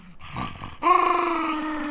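A dog lets out a short rough sound, then a long whining growl that holds steady and close, loud and alone for about a second.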